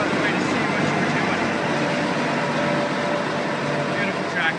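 A large tractor engine idles with a steady low rumble and drone throughout, continuous and close, without any clear revving.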